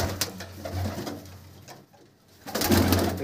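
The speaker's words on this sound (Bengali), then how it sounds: "দেখতেই পাচ্ছ প্রচুর পায়রা আছে" A large collection of pigeons in a loft coos steadily, low throaty murmurs overlapping continuously at close range, with a brief lull before a louder swell of cooing and rustling.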